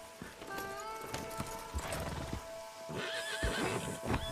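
A horse in the video game Red Dead Redemption 2 whinnies several times over clip-clopping hooves, close and fairly loud, with game ambience and a brief voice in the background.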